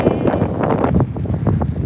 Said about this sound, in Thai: สวนลมด้วยนะคะเนี่ย ปั่นจักรยานสวนลม หนาวมากดูถนนค่ะ